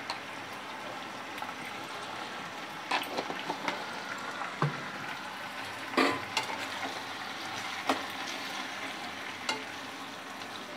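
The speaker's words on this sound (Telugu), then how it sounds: "గడ్డతో తిప్పుకుంటున్నాను పసుపు." Tripe (boti) curry with turmeric being stirred in a pan, a soft continuous sizzle broken by occasional scraping clicks and knocks of the spoon, close and fairly quiet.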